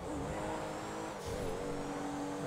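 A Pegassi Comet sports car, styled after a Porsche 911, drives in GTA 5 with its engine droning steadily, shifting pitch as it revs and changes gear midway, and the tires hiss faintly, with no talking over it.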